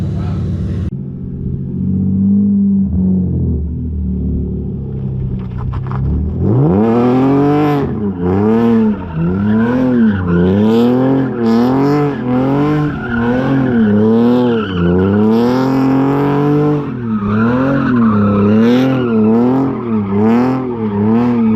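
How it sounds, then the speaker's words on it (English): A BMW E46 fitted with an angle kit spins donuts, its engine revving hard and droning in repeated rising-and-falling cycles while the tires squeal continuously, loud and close, with no talk. "we're gonna do a couple little donuts and go from there"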